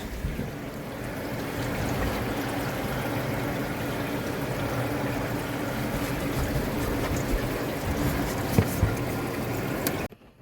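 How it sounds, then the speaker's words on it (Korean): Continuous rushing and splashing of water pouring into the trunk of a Hyundai Avante CN7 after a rear-end collision, a steady gushing wash with a few small knocks, cutting off abruptly at the end. "물이 여기저기에서 많이 들어옵니다 지금"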